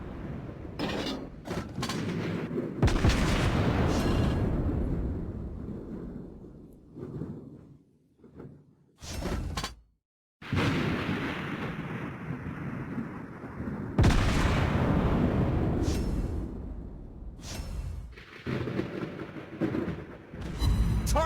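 USS Cleveland cruiser firing its guns in World of Warships Blitz, a run of loud booming salvos with sharp cracks, brief pauses and near-silent gaps between volleys.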